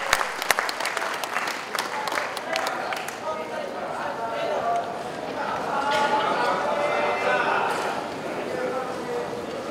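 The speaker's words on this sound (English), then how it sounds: "Can we have a big round of applause, ladies and gentlemen, once again, for Asia and Africa" A large crowd applauds at the closing of the Smart City Summit 2015. A sharp burst of clapping at the start swells into sustained, dense applause with crowd murmur beneath it.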